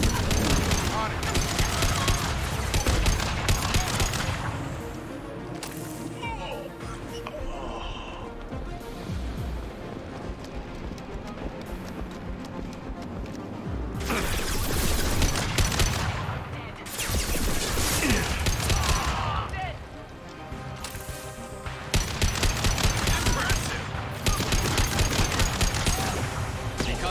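Gunfire in the video game Mass Effect 2, with dense bursts of rapid shots and crashes alternating with quieter stretches, loud and up close under game voices calling out combat orders.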